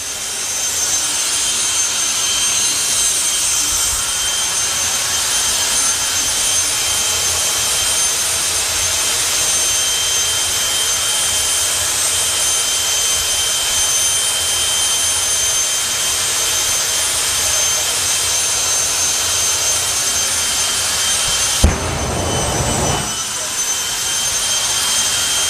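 A jet engine runs at full power during an outdoor event run, producing a loud, unbroken roar that fills the whole stretch, with a brief harsher surge near the end.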